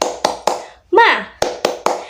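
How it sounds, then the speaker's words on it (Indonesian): Children in a second-grade classroom perform a rhythmic spirit clap, a pattern of sharp, loud claps in quick groups with a short spoken or sung cue breaking the rhythm in the middle. "Mari kita melakukan tepuk semangat."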